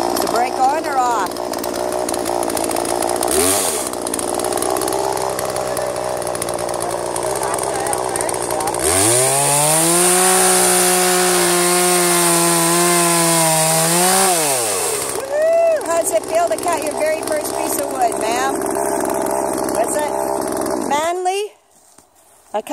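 A chainsaw runs loudly and close, its engine pitch rising and falling as it revs and bogs while cutting a piece of wood, then cutting off abruptly near the end.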